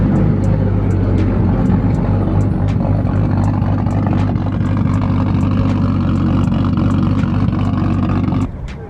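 A tuned Nissan Skyline with a built RB25 Neo engine runs loudly and steadily, a dense, close, throbbing engine roar with faint ticking that drops away just before the end.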